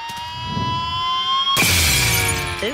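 Cartoon window glass shatters from a kicked football: a sharp, loud crash bursts in midway after a sustained tonal note, then tinkling debris trails off, with no one speaking over it.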